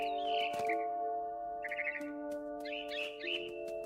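Mama bird in What Remains of Edith Finch chirps in three short, bright trilling bursts spread across a few seconds, sitting over a steady sustained musical drone with occasional soft clicks.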